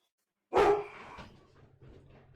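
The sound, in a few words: dogs barking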